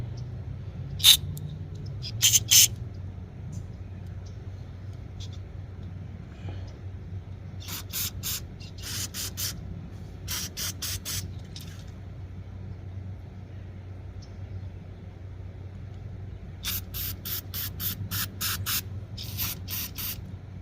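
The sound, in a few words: carburetor cleaner spraying through jets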